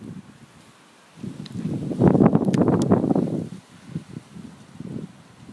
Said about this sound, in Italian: Aspettiamo solo la folata di vento se arriva.